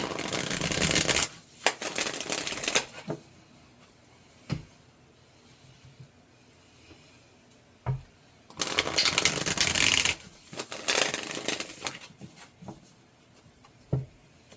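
A tarot card deck is shuffled in two bursts of rapid, close riffling and flicking, separated by quieter stretches with a few soft taps and card slaps.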